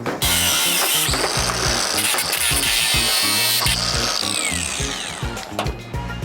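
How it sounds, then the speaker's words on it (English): An angle grinder cuts into a heavy piece of brass at a scrap yard, a loud continuous abrasive whine and rasp with rhythmic low thumps beneath, steady for about five seconds before easing off near the end. "Get me grinder."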